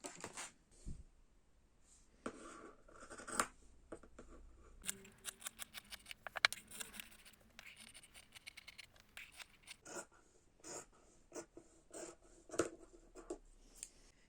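Scissors snip through fabric pinned along a cutting line, a quiet run of crisp, irregular cuts and rustling cloth with no talk.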